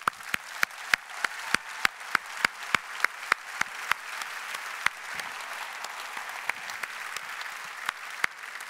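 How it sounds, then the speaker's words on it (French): Applause in the hall of a Liberal Party anniversary congress, with a few sharp, loud claps standing out in a regular rhythm over a softer, thinner background of clapping that continues throughout. "je vous demande vraiment de les applaudir"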